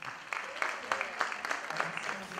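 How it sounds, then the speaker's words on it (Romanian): Quiet, sparse clapping from a small audience at a concert for an album launch, with irregular individual claps and some voices murmuring underneath. "aplauze pentru doamna"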